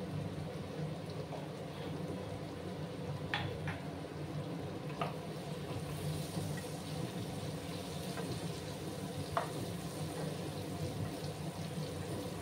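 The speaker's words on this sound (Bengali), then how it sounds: "এবার আমি এটার মধ্যে ছোটো চামচের 1 চামচ কাশ্মীরি লঙ্কার গুঁড়ো দিয়ে দিলাম" Kashmiri chili powder sizzles steadily in a pan of pumpkin for a vegetarian dish, a soft continuous frying hiss with a few faint clicks and stirring taps, fairly quiet and close, with no voices.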